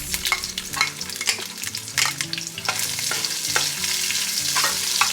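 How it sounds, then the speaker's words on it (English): Onions sauté in about three teaspoons of sesame oil for Nigerian fried rice, a close crackling sizzle broken by frequent sharp spatula scrapes and taps. "we are going to be sauteing the onions"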